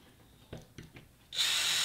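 A power drill widens a hole in a Han Solo blaster prop, starting abruptly as a steady, close, high-pitched whirring after a few soft handling clicks.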